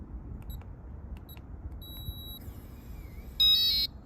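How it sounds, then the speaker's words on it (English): A few short electronic beeps, then a sustained high-pitched confirmation tone from a keyless entry lock on an RV storage door, loud and close, in a quiet room. "A long confirmation beep confirms success."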